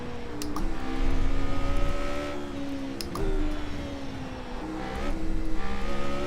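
An F3 open-wheel race car in the iRacing sim on the Lime Rock chicanes layout screams through the gears, its engine note rising and falling in several sweeping surges with quick upshifts, steady and fairly close throughout.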